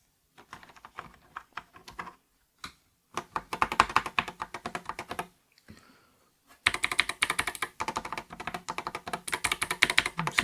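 Keys clatter on an 8BitDo Retro mechanical keyboard, M Edition, fitted with Akko Rosewood switches: close, crisp bursts of rapid typing separated by short pauses, with no talking.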